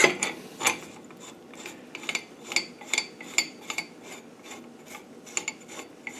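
A hand-made tool being screwed down on a workbench during an LT77 gearbox rebuild, giving a series of close, crisp ratcheting metal clicks in an irregular rhythm with quiet pauses between them.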